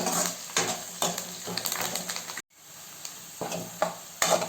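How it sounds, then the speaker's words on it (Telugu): A garlic and onion tempering sizzles in oil for mango dal, with steady frying hiss and repeated stirring scrapes close up and a short break partway through. "పప్పుకి తిరగమాత వేసిన ఆనియన్స్ ఇలా ఎర్రగా ఏగాలి"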